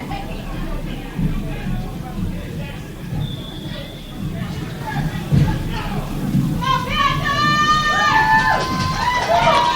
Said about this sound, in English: the crowd is getting into it with the bleacher creatures here in Meriden